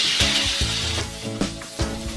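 Minced onion and canned mushrooms sizzle in melted butter in a pan, a steady bright frying hiss broken by several soft knocks and scrapes of stirring.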